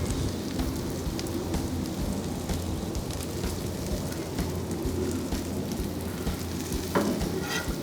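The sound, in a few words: cremini mushrooms and onions sizzling in a pan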